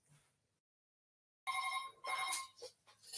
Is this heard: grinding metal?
no